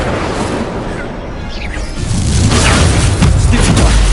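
Incendio fire spell cast in Hogwarts Legacy: a low rumble builds into a loud, booming fiery rush about halfway through and sustains, with scattered crackles over the roar.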